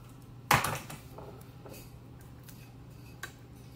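Telephone wires being trimmed while installing a pulse-to-tone converter in a 500 telephone, one sharp close snip followed by faint small clicks and handling sounds, with no talking.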